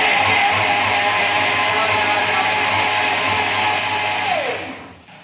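A motorized appliance whirs loudly and steadily, like a mixer grinder running, then winds down and cuts off near the end.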